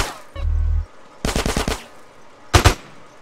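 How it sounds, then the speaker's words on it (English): Assault rifle fire in GTA San Andreas: a short burst, a brief pause, a longer rattling volley, then a final quick double shot, all loud and close with no talking. "we're gonna take the assault rifle on this one"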